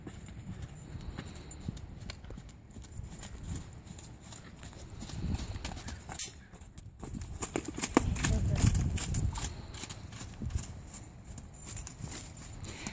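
A mare ridden under saddle moves with steady clip-clopping hoofbeats that stay fairly close and moderately loud, while a person talks over them throughout.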